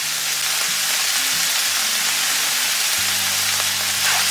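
Minced garlic sizzles and fries steadily in a hot pan, a constant close crackling hiss with a low hum beneath and no talking.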